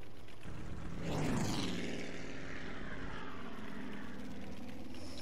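A propeller plane engine in the video game Battlefield V drones steadily. A rising whoosh swells about a second in, then the engine settles into a continuous moderate hum with no talk over it.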